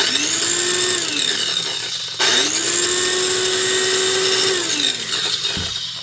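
A Craftsman Commercial 4-inch panel, laminate and trim saw motor whines up to speed, winds down, then starts again and runs steadily before coasting off, loud and close with no voices.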